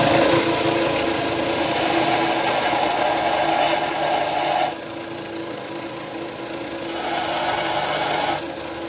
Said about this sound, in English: This is my crappy belt sander. Let's see what it does.